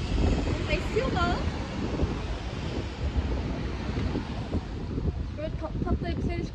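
Gusty wind blows outdoors on a sightseeing trip around Mostar and Blagaj in Bosnia-Herzegovina, a steady broadband rush buffeting the microphone throughout, with faint voices and distant activity underneath.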